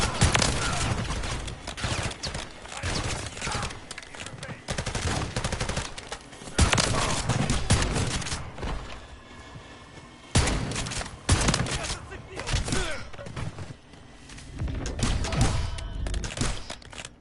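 Rapid shotgun blasts in Modern Warfare 3, fired with a SPAS, come in dense repeated bursts with brief pauses between volleys across a long stretch of gameplay, loud and close.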